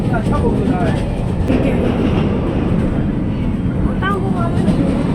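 A Japanese-built DEMU diesel-electric passenger train runs on rails, a loud, steady rumble and roar with faint clicking of wheels and occasional squeals, heard continuously from on board.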